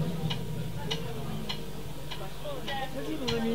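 A clock ticks steadily, about one sharp tick every 0.6 seconds, fairly close, over a low background hum and faint voices.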